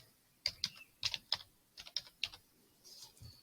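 Quiet typing on a computer keyboard while entering view names in drawing software, about a dozen light keystrokes in uneven short bursts, close and alone.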